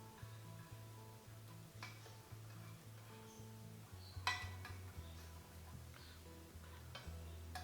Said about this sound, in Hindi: फिर चम्मच की मदद से इसको मिक्स करेंगे जी।